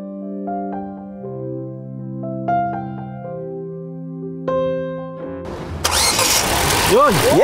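A car engine that had refused to start cranks and catches after a repair, then runs with a rough, loud roar. Voices talk over the quieter moments just before it fires.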